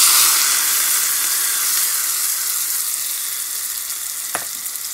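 Mustard seeds with black gram and chana dal fry in sesame oil for a garlic chutney, a steady close sizzle and hiss that fades gently, with one sharp click near the end.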